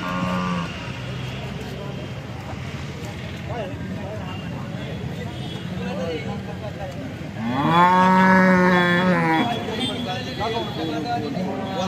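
An HF Jersey cow lows at a busy cattle market in Alephata, giving one long, loud, close moo partway through, over steady crowd and vehicle background with people talking nearby.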